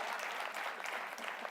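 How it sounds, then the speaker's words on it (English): Audience at a leadership convention keynote applauding, a dense, steady wash of clapping hands throughout. "I deserve an applause for that."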